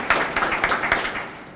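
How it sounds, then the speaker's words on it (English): Brief, sparse clapping from a small group at a ribbon cutting for a new Department of Corrections kitchen in Prince George's County, a few distinct hand claps close by that thin out and fade quickly. "give yourselves a round of applause"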